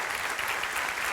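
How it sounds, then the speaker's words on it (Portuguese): Church congregation applauding in a steady, dense wash of clapping that fills the room, loud and continuous with no voices over it. "Você pode aplaudir mais forte?"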